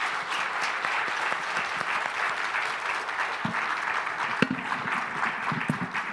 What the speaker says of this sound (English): so let's give Henry a round of applause.